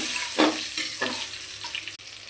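Cherry tomatoes and spices fry in hot oil with a steady broadband sizzle, and a few louder bursts mark stirring or ingredients landing in the pan.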